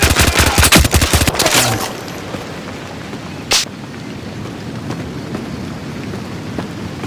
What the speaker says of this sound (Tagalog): Yun yung tunog pag alam mong binabaril kayo kasi parang stick lang na lumalagapak